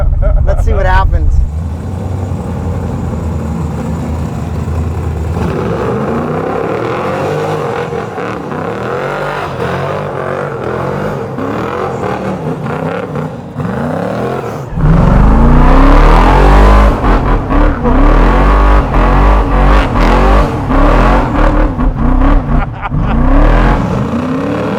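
A 1971 Chevelle SS with a 572 big-block engine roars through donuts, loud sustained revving and tire-churning rumble that surges harder partway through, close and dominating, with voices talking over it.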